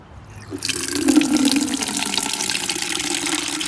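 Water poured from a jug outdoors on a homestead for watering plants: a steady splashing pour starts after a brief quiet moment and continues evenly, fairly close, with no talking.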